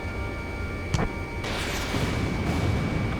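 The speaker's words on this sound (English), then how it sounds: "Strider 1, missile launched." A missile launches in Ace Combat 7 over steady jet engine drone, with a sharp burst near one second followed by a broad whooshing roar and a distant blast rising behind it.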